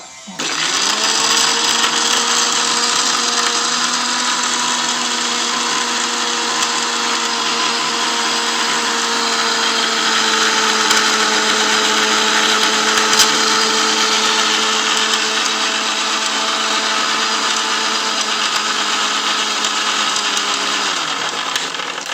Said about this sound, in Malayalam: ഇനി ഈ മിക്സിയിലോട്ട് ഇട്ടിട്ട് 3-4 ഒരു അടി അടിച്ച്